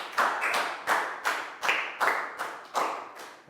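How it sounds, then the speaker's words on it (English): A primary-school class gives a round of applause in a Year 4 maths lesson: a small group claps in distinct bursts, roughly one every half second, fairly close and with no talking over it. "High five and a big round of applause for Net, please, guys."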